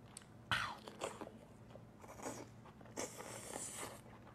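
Someone bites and chews a giant crab or lobster up close, with several crunchy, cracking bites and wet chewing sounds spread across the moment, fairly quiet and without talk.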